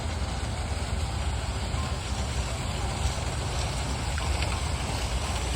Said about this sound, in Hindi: कई दिनों के बाद ये झरने जैसी आवाज़ सुनकर